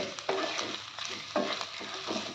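Whole spices, salt and vegetables stir-fried in a pan for Maharashtrian masale bhat, with a steady sizzle broken by several scraping stirs of the spoon, close and moderately loud.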